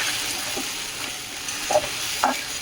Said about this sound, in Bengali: এখন এই যে ঢাকনাটা খুলে দিয়েছি সাবুটা আর একটু নাড়াচাড়া করবো